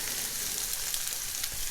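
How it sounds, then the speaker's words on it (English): Sliced shallots crisping in infused olive oil give a steady, dense sizzle that stays even and close from start to finish, with no voices. "These 4 sliced up shallots are going in to this, now it's infused olive oil."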